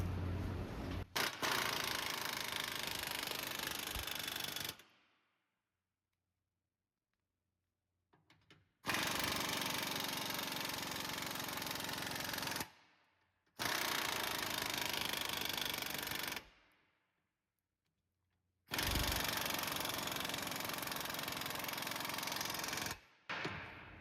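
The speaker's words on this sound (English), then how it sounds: "now we're gonna remove this frontal bolt, which is a 22 millimeter" Power tool loosening a 22 mm front lower control arm bolt on a 2017-2025 Honda Ridgeline, heard as three loud sustained bursts of rapid hammering rattle separated by silent pauses, with no talk.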